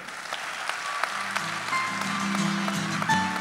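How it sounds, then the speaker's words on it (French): Clapping from an audience at an awards ceremony, steady and moderately loud with a few sharper claps standing out, while a low hum and brief tones run underneath. "Applaudissez-les, s'il vous plaît"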